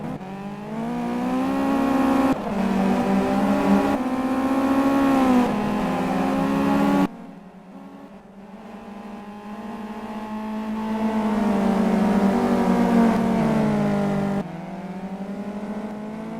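Race car engines in the Simraceway racing video game whine and rev at the corkscrew as a pack of cars runs close together, with pitch rising and falling through gear changes, sudden cut-offs and a brief quieter lull, loud and continuous.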